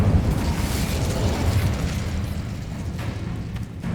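The Incendio fire spell from Hogwarts Legacy bursts out as a loud, dense whooshing roar of flame. It is heaviest at the start and slowly thins over four seconds, with no voices.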